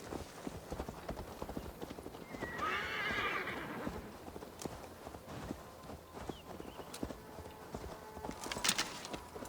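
Rhythmic hoof clip-clops of a horse walking in the video game Assassin's Creed Valhalla, steady and fairly close, with a brief whinny partway through.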